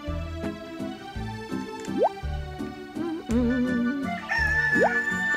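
Chickens cluck in short bursts against a bright, bouncy game melody in Harvest Moon: Save the Homeland, with a few rising chirpy effects and no talking.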